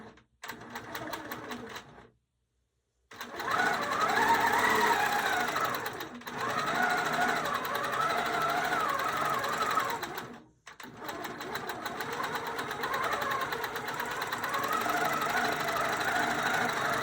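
A sewing machine runs in long continuous bursts while free-motion stitching back feathers on a quilt, a steady rapid whirring hum that stops briefly near the start and pauses twice more before resuming.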